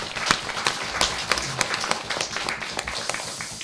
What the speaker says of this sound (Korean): 좀 박수 한번 좀 보내주시기 바랍니다.